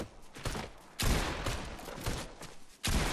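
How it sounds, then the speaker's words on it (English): Automatic weapon fire in Fortnite Mobile, three loud rapid bursts that start abruptly and continue without a break. "Nice, Autofire."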